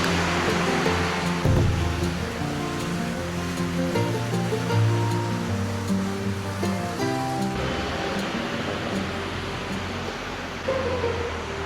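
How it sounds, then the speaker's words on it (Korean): Steady broadband rain hiss on a Taichung street, loud and continuous, with some low rumbling traffic or movement underneath and no talking. "오늘도 시원하게 비 오는 타이중이에요."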